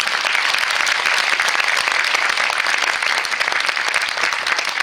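An audience applauds the film's producer at a premiere screening and debate in Rochefort, with dense, steady clapping filling the room at a loud, even level throughout.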